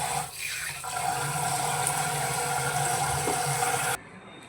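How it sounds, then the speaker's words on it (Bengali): Rice is washed under steady running tap water in a home kitchen, with a continuous close splashing rush that holds evenly and then cuts off abruptly near the end. No one speaks. "চালটাকে সুন্দর করে ধোবো, 2-3 বার ধুয়ে তারপরে ভিজিয়ে রেখে দেবো।"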